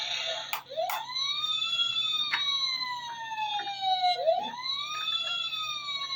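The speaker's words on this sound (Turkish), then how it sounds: "Evet bakın bu da bir ambulans. Anons ediliyor." Toy ambulance siren wailing with repeated rising and falling sweeps, fairly faint and close, with a few sharp clicks and a low steady hum underneath and no talk.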